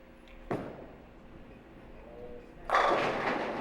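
At a bowling tournament championship match at Silver Lanes, a ball crashes into the pins for a strike with a loud clattering burst near the end, after a softer thud and a quiet hall.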